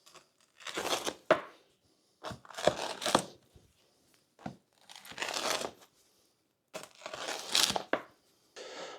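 A home-baked New York style pizza being cut, crisp crunchy bursts of crust being sliced in short separate strokes with brief quiet gaps between, close and clear.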